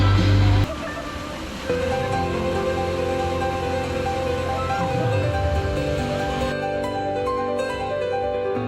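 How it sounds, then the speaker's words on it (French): Rushing water from a waterfall on the Ha Giang Loop in northern Vietnam pours in a steady, loud broadband roar, with a brief louder burst at the start. "Les gars, on est à la cascade"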